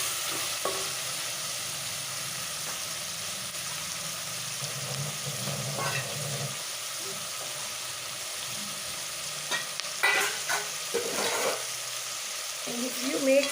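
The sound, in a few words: tomatoes and vegetables frying for sambar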